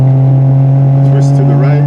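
Triumph TR6 engine running with a little gas applied, a loud, close, steady exhaust note that rises slightly in revs over a couple of seconds, with a short outdoor hiss in the background.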